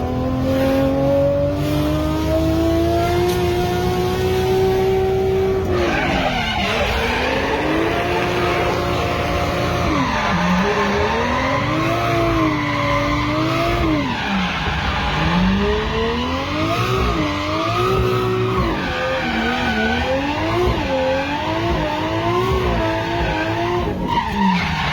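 A Toyota GT8 race car with a 1JZ engine and dual-clutch gearbox races at a state series round. The engine is loud and close throughout, revving up and down repeatedly with shifts and tire squeal.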